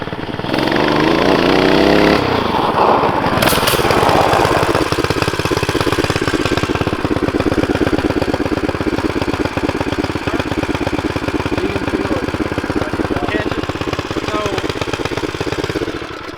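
A Tillotson 212R race engine runs steadily and loudly throughout, revving up in the first few seconds before settling into a buzzing, high-pitched drone.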